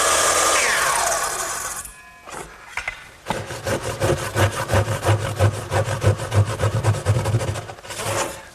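A 10-point crosscut hand saw finishes the corner cuts on a Shaker step stool, giving a close, steady run of rhythmic rasping strokes after a brief louder opening burst, with no talking.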